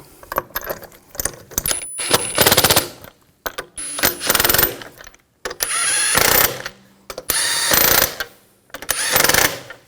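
Power tool spinning in rear wheel lug bolts on a 2000-2006 BMW X5, five loud bursts of rapid ratcheting rattles, each a second or so long, separated by short pauses and clicks.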